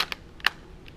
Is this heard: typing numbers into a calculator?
yes